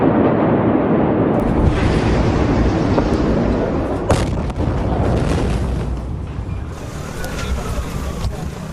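Huge ammonium nitrate explosion at the Beirut port, a loud sustained roaring rumble with a sharp blast partway through, then a long rolling aftermath like wind and debris.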